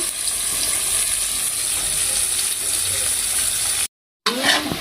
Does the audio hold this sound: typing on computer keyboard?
no